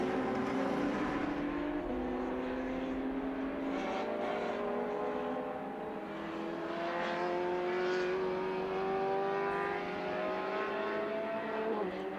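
Lotus Cup race cars circle a track with a steady, high-pitched engine whine that climbs through the gears at moderate distance and holds continuously without any talk over it.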